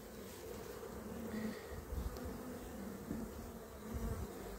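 Honeybees buzz on a hive frame in a steady, dense drone, many insects close by with no voices.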